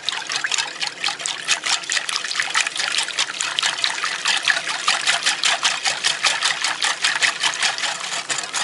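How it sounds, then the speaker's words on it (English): Milk mixture trickles slowly into an egg mixture for a banana cream pie filling, a soft, close, continuous pouring with fine rhythmic splashes. "I'm going to slowly, very slowly add in this milk mixture just to temper this egg mixture"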